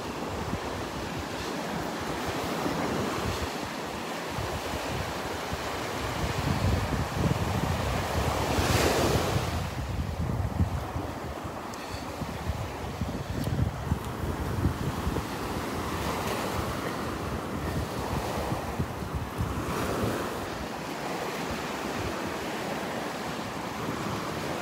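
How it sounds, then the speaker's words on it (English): Ocean surf breaking along a Gulf beach at Delnor-Wiggins, a steady wash of waves with gusting wind buffeting the microphone throughout, rising and falling without pause. "Not nearly as many waves as there were yesterday up here."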